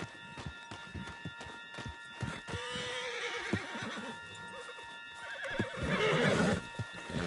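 A horse in Red Dead Redemption 2 whinnies loudly amid the clatter of hooves, with a tonal game score humming underneath and brief scuffling sounds before the neigh.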